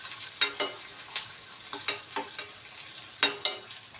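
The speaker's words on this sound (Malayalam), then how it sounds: "ഇത് കുറച്ച് നല്ലപോലെ വഴലട്ടെ കേട്ടോ" Onions sautéing in a pan while being stirred, sharp spoon scrapes and taps every half second or so over a quiet, steady sizzle, close and without speech.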